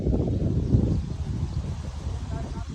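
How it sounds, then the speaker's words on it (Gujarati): Gusty wind blowing through a Gujarati village ahead of the rains, a low, rumbling rush buffeting the microphone throughout, with voices faintly mixed in. "પવન પવન પવન ચાલુ થયો"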